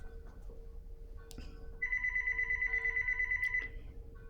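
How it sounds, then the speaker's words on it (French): A telephone rings indoors, a steady electronic trill lasting nearly two seconds after some faint clicks and a low background hum, with no talk over it. "Il va falloir que je débranche"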